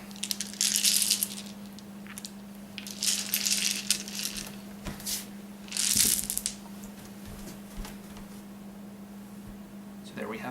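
Several dice are shaken and rolled in bursts, a rattling clatter repeated three times over a steady low hum, with a voice talking in between.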